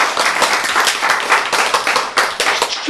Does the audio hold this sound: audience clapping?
yes